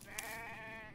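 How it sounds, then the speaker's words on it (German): A sheep in a video game gives a single wavering bleat, steady and moderately close, heard alone without talking. "ist keine Ziege, ist ein Schaf."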